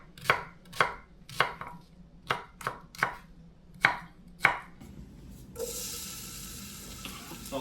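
Beef knuckle tendons being cut into smaller pieces on a board: about ten sharp, evenly spaced knife chops close by, after which a soft hissing sizzle takes over.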